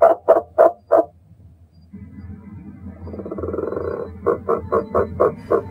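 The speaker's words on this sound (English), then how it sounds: "They actually mimic the KAMBO frog. It kind of sounds like a small dog bark." Kambo frog calling in a rainforest at night, a series of short, sharp barks like a small dog, four quick calls, a pause with a softer droning call, then another run of six rhythmic barks, close and clear.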